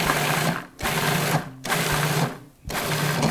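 A food processor pulses cranberries in three loud motor bursts, each roughly a second long, separated by brief silent gaps.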